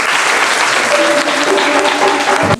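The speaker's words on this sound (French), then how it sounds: "Applaudissez pour vous-même." Children in Burkina Faso applaud together, a dense and loud burst of clapping that continues steadily for a couple of seconds with no talking.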